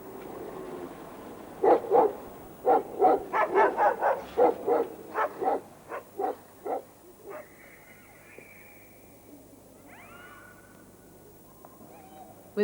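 Guard dogs that patrol a bridge at night give a rapid run of loud, close barks and yelps, then fall quiet while faint chirps and a distant hum remain.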